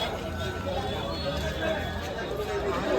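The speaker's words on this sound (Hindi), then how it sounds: "और कितनी ज़्यादा भीड़ है" Dense crowd chatter fills the evening outdoors near Banke Bihari temple in Vrindavan, many voices blending into a steady, close hubbub with no single speaker standing out.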